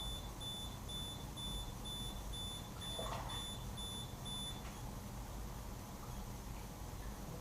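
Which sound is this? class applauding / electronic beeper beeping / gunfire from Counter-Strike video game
electronic beeper beeping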